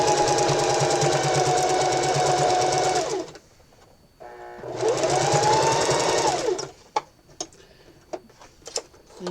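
A sewing machine runs a zigzag stitch through fabric in two loud, steady bursts of whirring, separated by a short pause and followed by a few sharp clicks and taps.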